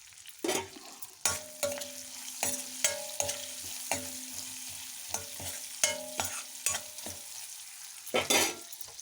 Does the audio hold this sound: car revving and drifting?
no